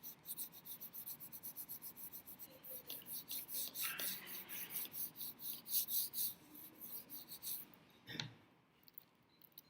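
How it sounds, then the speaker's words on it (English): Paper is burnished by hand onto an inked linoleum block during relief printing, making a steady rasping rub in repeated close strokes for most of the clip, followed by a brief scrape near the end. "Be sure to burnish. Really get all the edges and all the corners pushed down to get that ink"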